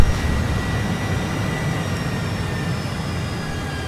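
AV-8B Harrier II jet engine in Microsoft Flight Simulator, a steady loud broadband roar with a faint high whine, holding constant without pause.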